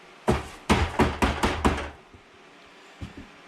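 Coffee grounds are knocked out of a percolator into a trash can: six sharp, hollow knocks in quick succession, then a pause and two fainter taps, close by with no talk.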